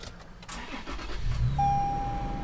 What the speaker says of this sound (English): So I'm gonna go ahead here and press the ignition.